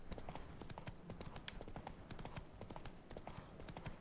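Horse hooves in The Witcher 3 video game, a brisk continuous clip-clop of a trotting mount, loud and close, with a faint whinny hinted in the mix.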